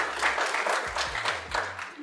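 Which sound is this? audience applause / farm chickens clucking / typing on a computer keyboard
audience applause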